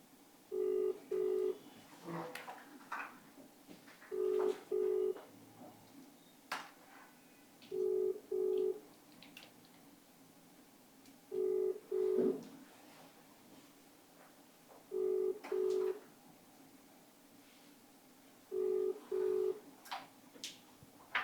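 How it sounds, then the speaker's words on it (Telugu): A phone call rings out after dialing, a faint repeating double ring tone sounding at regular intervals about every three and a half seconds while a quiet room hum continues between rings. "ఒకసారి నేను కాల్ చేస్తాను."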